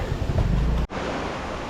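Rushing water at Puray Falls roars as a dense, steady wash of noise close by, broken only by a momentary dropout partway through.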